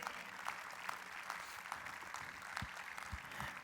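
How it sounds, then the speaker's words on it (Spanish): A church congregation claps at a service, a faint, distant spatter of applause that stays steady throughout with no voices on top. "Alguien debería darle un aplauso al Señor ahí por eso"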